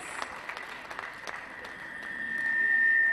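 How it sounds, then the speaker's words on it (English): Applause from an audience at a UNILAG convocation lecture in a university hall, a steady, fairly faint wash of clapping with a thin sustained tone that grows slightly louder toward the end. "Please, a round of applause."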